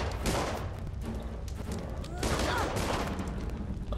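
Gunfire crackles through a Dungeon Siege 3 battle in repeated bursts of shots, rising and fading across a few seconds amid busy fight noise, moderately loud and with no voices over it.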